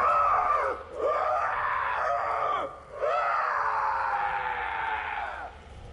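Agonized screams from the Black Ops 3 Zombies video game, a series of long, loud, wavering cries with brief breaks between them, heard alone without talk.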